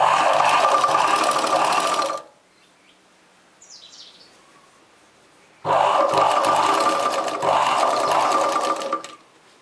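Sewing machine stitching a chudidar top runs in two loud, steady bursts, broken by a quiet pause of about three seconds with faint chirps.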